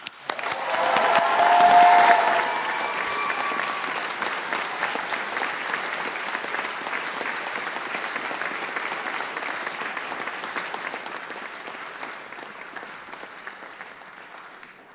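A large graduation-ceremony audience cheers and applauds for the class of 2024, the clapping swelling loudest early with a brief whistle, then holding steady and slowly fading out.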